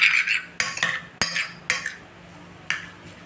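An egg is mixed in a bowl with a metal utensil, giving a handful of sharp clinks and scrapes against the bowl at an uneven pace, close up and without talk.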